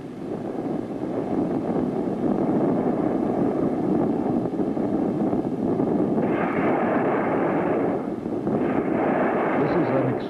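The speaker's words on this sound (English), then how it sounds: "Extremely accurate and extremely successful explosion." A nuclear bomb explosion in the sky over open country gives a loud, sustained rumbling roar that keeps going for several seconds, with a brighter rushing layer joining in the latter part.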